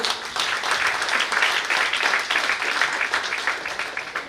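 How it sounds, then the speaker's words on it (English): An audience breaks into steady, sustained applause at a nursing event, a dense wash of clapping that carries on evenly throughout. "So it really needs a round of applause."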